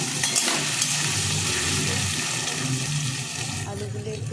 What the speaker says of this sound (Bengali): আলুগুলো একটু ভালো করে ভেজে নিয়ে